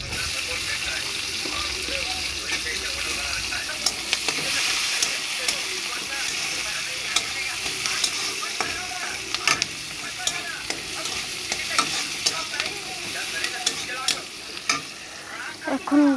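Onions and green chillies fry in a pan for a Bengali maggi noodle recipe, giving a steady loud sizzle with stirring clatters and utensil scrapes throughout, close up, with occasional speech in the background.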